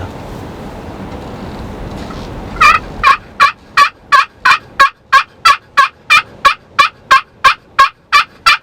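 A wild turkey calls during a Kansas turkey hunt, a loud, close series of about sixteen evenly spaced sharp notes that follow a quieter, rustling stretch, with no talking.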